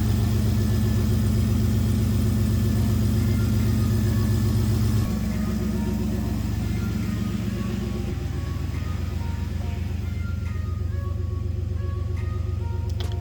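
A turbocharged Lincoln Town Car engine runs just after its first start, a loud steady idle with a deep low rumble that shifts slightly in tone partway through, with no talking.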